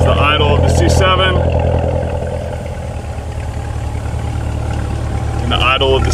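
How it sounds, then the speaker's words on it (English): A 2015 Chevrolet Corvette C7 Z06 engine idles with a steady, deep, low throb that stays loud and continuous. A person talks briefly over it at the start and again near the end. "It's the idle of the C7."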